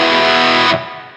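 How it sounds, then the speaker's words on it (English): Guitar through a high-gain distortion effect pedal, gain set about halfway: a loud, thick, buzzing sustained chord rings for most of a second, then cuts off abruptly and leaves a fading tail. "So that's a really cool kind of high gain distortion sound."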